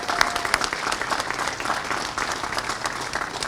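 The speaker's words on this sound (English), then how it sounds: "So can we give them a round of applause?" A crowd at the Jackson Street Plaza ribbon cutting claps for the mayor and council, giving a sustained burst of dense applause.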